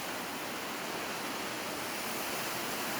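A river rushing through a forest near Torc Waterfall, a steady broadband roar of flowing water that stays loud and unbroken throughout.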